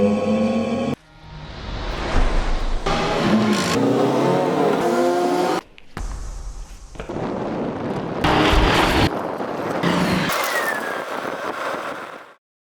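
A hydrogen-powered race car on track, its motor winding up in loud accelerating sweeps with rising whines and abrupt cutoffs, several bursts of roaring drive broken by brief drops to silence.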